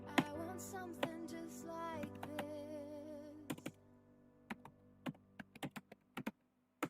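Keys clack on a computer keyboard in a quiet room, first in a soft running flurry under a faint steady hum, then as a handful of separate, sharp taps spaced out near the end.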